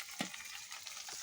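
Fish frying in a pan, a soft crackling sizzle with a sharp pop near the start and scattered spits over a low, steady hiss, close and fairly quiet with no talk.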